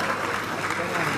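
Audience applause at a Bolivian political speech, a brief steady wash of clapping from a crowd, loud and continuous throughout.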